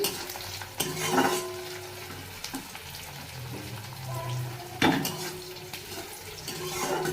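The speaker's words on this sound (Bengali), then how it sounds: "এর মধ্যে আমি আর একটু তেল দেবো। আর দিয়ে দিচ্ছি দেখো একটা শুকনো লঙ্কা।" Onion frying in oil in a pan with a dried red chilli added, a steady close sizzle under occasional stirring scrapes and clanks of a utensil against the pan.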